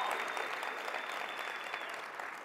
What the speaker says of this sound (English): It feels good to applaud yourself, doesn't it?